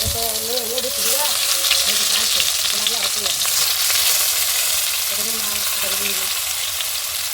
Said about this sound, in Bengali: এখন এক এক করে ভেজে নেব।